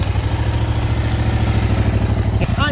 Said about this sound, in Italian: Ovviamente lo scarico è ancora quello originale, infatti ve lo faccio sentire.